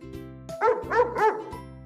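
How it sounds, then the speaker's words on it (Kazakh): Three quick, close dog barks come in a row, set between steady sustained tones. "Ит."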